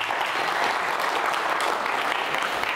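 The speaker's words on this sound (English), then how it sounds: "everybody should give them a big hand of applause" Steady, dense applause from a conference audience fills a large venue, continuous and evenly loud throughout with no talking.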